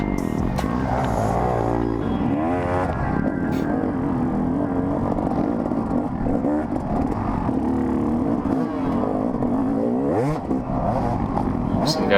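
Dirt bike engines rev hard during a woods race, a loud close snarling drone that rises and falls continuously as riders push along the trail right behind the rider.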